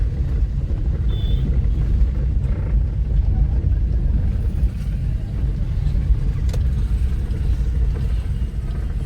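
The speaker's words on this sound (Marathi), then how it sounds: "आता आपण फक्त इथून एक यू टर्न मारून जातोय" A car makes a U-turn on a town road beside a busy weekly market in Lanja, with a low steady engine and road rumble heard from inside and a person talking over it.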